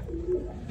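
A pigeon gives one soft, brief coo nearby, low and muffled against quiet background noise.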